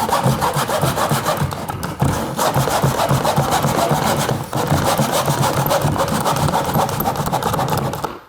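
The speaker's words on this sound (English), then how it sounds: "You can cut right through the whole jamb, it doesn't really matter." A hand saw cuts through a wooden door jamb and casing, with loud, close, steady back-and-forth rasping strokes in an even rhythm throughout.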